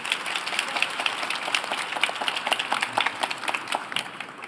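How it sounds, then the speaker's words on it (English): Modest audience at a Tech Inclusion SF 2017 panel clapping for the speakers, a light, scattered patter of hands heard from a distance that keeps going steadily. "Let's give them a big applause"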